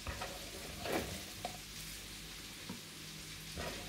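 Onions frying with dried fish (shutki) crackle and sizzle steadily in a pan, joined by a few soft stirring scrapes and small pops, faint and close with no talking.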